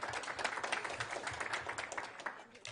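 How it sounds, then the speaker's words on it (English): An audience applauds at a community gathering, scattered clapping that swells into a brief round at moderate distance and thins toward the end. "So give yourselves a round of applause for that."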